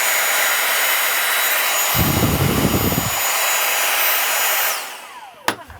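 Repaired Dyson V6 Slim cordless vacuum motor running steadily with a high, airy whine, close and loud, briefly deepening in the middle, then spinning down with a click at the end.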